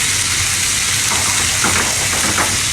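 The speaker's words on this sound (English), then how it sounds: "There's the old sizzle." Steady, loud sizzling of chicken and carrots frying in a hot pan, a dense crackling hiss with brief spitting pops toward the end.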